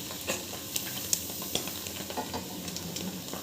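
Homemade ghee sizzles and is stirred in a pan, a soft continuous frying hiss with light scraping ticks, fairly faint and close.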